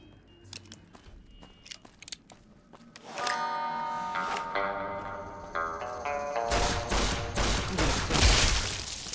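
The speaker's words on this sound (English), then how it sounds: "This is the mysterious stranger gun." A weapon called the Mysterious Stranger gun fires in a video game, with sharp, loud shots and clicks early on, then a dense, sustained burst of gunfire and impacts that grows louder toward the end.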